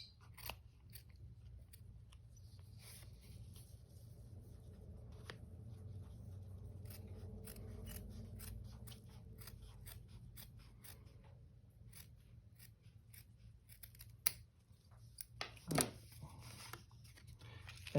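Faint, close scissor snips cut out a paper hat piece for an autumn pumpkin gnome craft, a scattered series of small crisp clicks over a low steady room hum.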